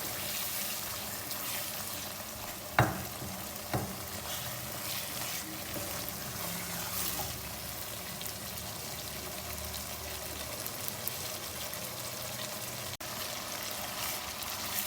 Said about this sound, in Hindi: और इसको हम थोड़ा सा फ्राई करेंगे।